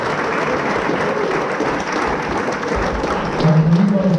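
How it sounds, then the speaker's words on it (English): An audience at a soccer school celebration evening claps for the students, a steady round of applause from a room of people, with a brief voice rising near the end. "So give them a round of applause, please."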